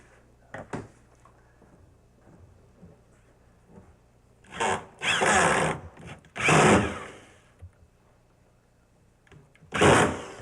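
A power driver sinks a very long drywall screw into a kitchen cabinet during a coach house renovation, with bursts of whirring in three or four runs and quiet handling noises between them.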